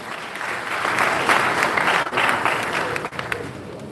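Applause from a mentorship summit audience in Kano rises and holds, a dense wash of many hands clapping, dipping briefly twice before fading toward the end.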